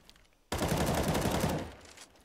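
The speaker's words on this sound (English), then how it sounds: "So Magic Boy behind the smoke, is he willing to fire?" Burst of sustained automatic gunfire in a Counter-Strike match on the Cobblestone map during a competitive esports game, loud and continuous for about a second and a half after a quiet start, then fading.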